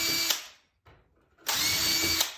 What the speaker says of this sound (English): Then it's just a matter of drilling it.